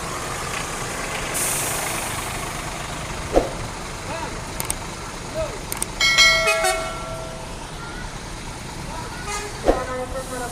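A Halmahera bus pulls out of a busy bus terminal, its engine rumbling throughout, with two short, loud horn toots several seconds apart and a brief musical horn phrase in between, while voices carry in the background.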